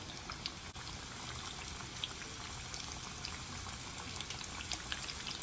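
A quiet, steady sizzle with scattered small pops and crackles of chicken frying in hot oil, continuous throughout with no voices.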